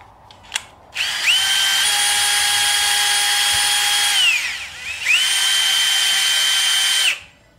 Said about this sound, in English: Hook the cable up to my drill.